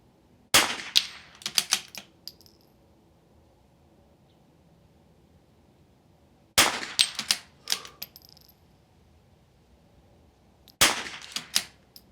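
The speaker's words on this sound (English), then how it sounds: "Two shots, small to large." Three separate bursts of sharp rifle reports, each a quick cluster of several shots with ringing target hits, fired at an NRL22 .22 rimfire match course with a bipod in prone, set apart by quiet pauses outdoors.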